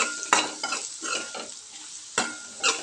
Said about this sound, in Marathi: आणि ते आता व्यवस्थित आपल्याला परतून घ्यायचं आहे.